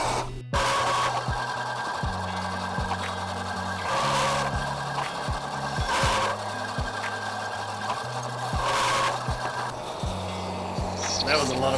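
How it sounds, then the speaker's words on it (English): A bandsaw runs steadily as it cuts half laps into the ends of wooden brace pieces for a Murphy bed frame, with a constant motor whine and repeated rises of the blade biting into the wood, close by with no talking. "Here, I am cutting the half laps on the end of the brace pieces."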